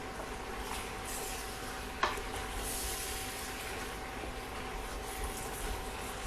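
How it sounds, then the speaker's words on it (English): Turkey tail being stirred in a pot: a low, constant bubbling sizzle with a faint steady hum and one brief clack of the spoon, no voices. "Give it a full stir."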